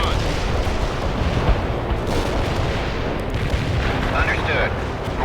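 Artillery shells firing and exploding in the World in Conflict video game, a heavy continuous roar of overlapping blasts at steady loudness, with radio chatter briefly heard over it.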